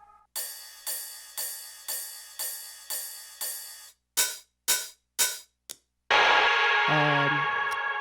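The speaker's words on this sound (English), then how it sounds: "These are just quarter note rides, basically." Ride cymbal hits in quarter notes from a drum sample in an electronic music track, seven evenly spaced, ringing strikes followed by shorter choked hits, then a sustained bright wash with a rising tone.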